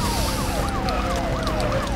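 Police siren in the video game Enter The Matrix, wailing up and down continuously and loudly over a low engine rumble, with no talking.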